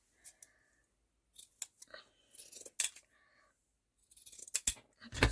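Scissors snip through a piece of coffee-dyed muslin in several short bursts of crisp cutting, with quiet pauses between the cuts and no talking.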